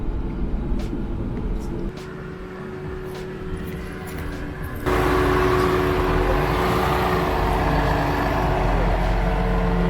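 4WD vehicles climb a steep rocky section of the Lennard Track, with an engine rumbling steadily nearby that grows louder and heavier partway through as the vehicle works up the slope.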